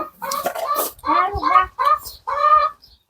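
Chickens cluck close by in four short bursts of throaty, rising calls separated by brief pauses.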